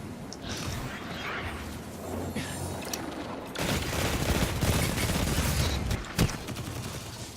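Shotgun fire and other weapon shots in Destiny 2 PvP gameplay, bursts of gunfire and booms of varied loudness with a dense flurry in the second half and a sharp blast near the end, under game sounds.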